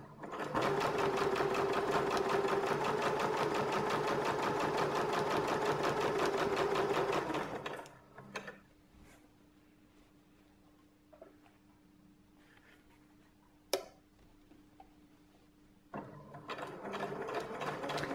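Sewing machine stitching quilted fabric rolled under the arm, a loud steady whirring run for about seven seconds, then stopping, followed by faint handling clicks and a brief restart near the end.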